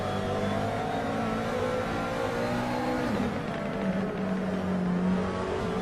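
GT3 race cars, a McLaren and a Ferrari, drone through a corner at Mugello in a racing video game, their engines whining steadily and shifting pitch as they brake and accelerate, with no voices.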